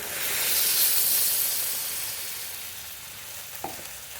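Steady, loud sizzling as water hits spices and frying eggplant in a pan, a broad hiss that swells early and then slowly eases, with a small clink near the end.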